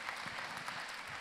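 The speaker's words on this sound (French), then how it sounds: "Vous pouvez applaudir" An audience at a literary talk and interview event applauds steadily, a soft, dense wash of many hands clapping at a distance with no voices over it.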